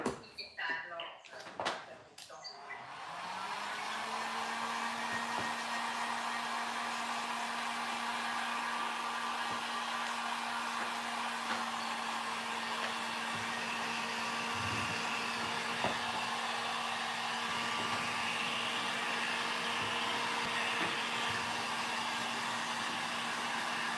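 A handheld heat or blower dryer runs steadily, drying a painted wood craft piece. A few loud clicks and knocks come first, then a continuous even whir holds, close and loud, for the rest of the span.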